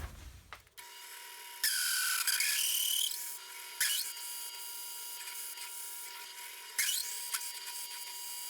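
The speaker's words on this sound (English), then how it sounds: "Let's head over to the drill press." A drill press bores into a wood workpiece with a steady high whine, broken by several loud grinding bursts as the bit bites in, each fading back to the motor's hum.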